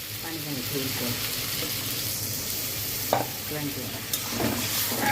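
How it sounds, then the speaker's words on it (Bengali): Tomatoes fry in a pan with a steady sizzle while a spoon stirs and scrapes through them, giving a couple of sharper knocks against the pan, close and continuous. "টমেটো দিয়ে নেড়ে চেড়ে এবার পানি দিয়ে নেব"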